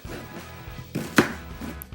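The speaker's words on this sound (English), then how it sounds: "So I'm just showing you here how I cut the onion up" A knife cuts through an onion on a cutting board, giving one sharp chop with a few quieter slicing taps around it, heard close up with no talking.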